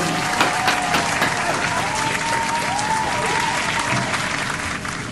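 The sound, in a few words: studio audience applause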